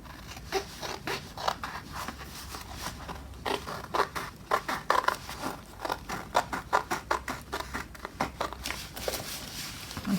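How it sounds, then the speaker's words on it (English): Scissors cut through paper down the edge of a handmade journal page built from envelopes and scraps, a quick run of crisp repeated snips close up with no talking. "And then I can just cut it down the edge here."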